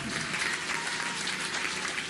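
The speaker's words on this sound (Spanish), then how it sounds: "hay que darles un aplauso excepcional" Sustained crowd applause in honour of military engineers at a new IMSS general hospital opening in Iztapalapa, a dense, steady wash of many hands clapping at moderate distance.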